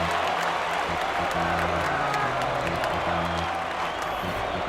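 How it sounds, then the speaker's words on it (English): Crowd noise in MLB 2K7, a baseball video game: steady, continuous stadium cheering and applause with a dense roar throughout, under a broad hiss, with no clear voices on top. "They're down by 1, but the fans are still cheering."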